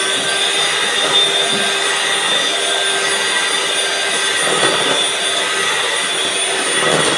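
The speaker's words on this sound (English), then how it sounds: "Now you mix it with the machine." Electric hand mixer beating muffin batter, a loud steady whir running continuously and close up with no break, no voices.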